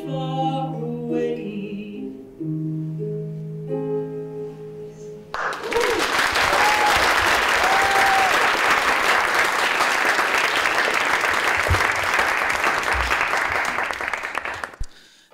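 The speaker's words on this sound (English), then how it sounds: "Give another round of applause for Alec." An audience bursts into loud sustained applause and cheering after a storytelling performance at an Asian American storytelling show, following a few seconds of sung melody, the clapping dense and even for about ten seconds.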